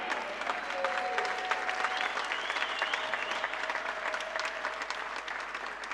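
Congregation at a church convention in Belgium applauding and cheering, a dense, steady wash of clapping with raised voices and a few higher shouts throughout, fairly loud and close.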